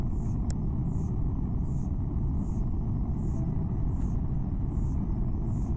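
A spaceship engine in Empyrion Galactic Survival runs at full throttle, producing a steady, dense low roar. A soft pulsing tone repeats above it about once a second, and the whole sound stays at an even level.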